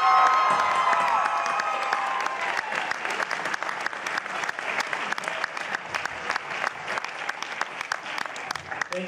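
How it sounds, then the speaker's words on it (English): An audience at a school pops concert claps and cheers in a sustained burst of applause that gradually thins into scattered claps, with some voices in the crowd. "one more round of applause for all of our performers tonight"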